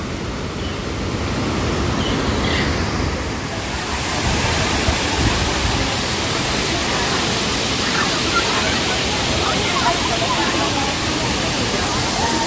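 Dudhsagar waterfall in Goa, a full-flowing cascade dropping from a great height: a loud, continuous broadband roar that swells slightly after a few seconds and holds steady throughout.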